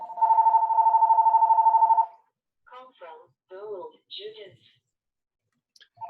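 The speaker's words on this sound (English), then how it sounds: "I'll wait while whoever's phone is ringing mutes himself." A telephone rings during an online planning meeting, a steady electronic ring tone lasting about two seconds, followed by brief bits of voices and another ring starting at the end.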